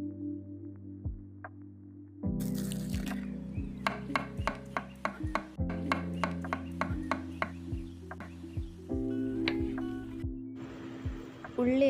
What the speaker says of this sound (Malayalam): ഉള്ളി അരിഞ്ഞെടുത്തു